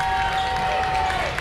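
A crowd cheers steadily and loudly at a boys' district tournament basketball game, a dense continuous roar filling the gym throughout.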